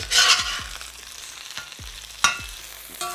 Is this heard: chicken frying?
yes